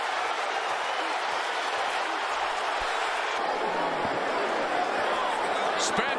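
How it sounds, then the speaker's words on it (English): A boxing arena crowd cheers and roars continuously at a loud, even level during the Spence vs Ugas fight, with a commentator talking over it. "The crowd erupting here at 18."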